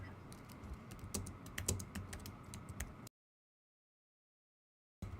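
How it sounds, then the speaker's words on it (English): Rapid, dense clatter of keys on a computer keyboard, close and fairly quiet, running for about three seconds before cutting to silence, with a brief burst returning at the end. "I was just typing really quickly"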